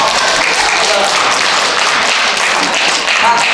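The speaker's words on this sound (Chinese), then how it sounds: "给鼓掌一下哦。" An audience at a Christmas party breaks into continuous applause, a dense steady patter of clapping that fills the whole stretch at close range.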